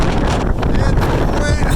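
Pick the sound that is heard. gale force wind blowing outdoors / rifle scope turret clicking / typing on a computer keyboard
gale force wind blowing outdoors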